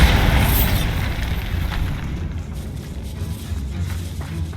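Bombarda spell explosion in Hogwarts Legacy, set inside a catacomb: one deep, loud boom at the start that rumbles and fades over several seconds into a low, lingering roar.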